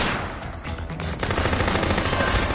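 Gunfire in the zombie video game Dead Rising, a dense rattling stream of rapid shots that runs continuously and loud with no talking over it.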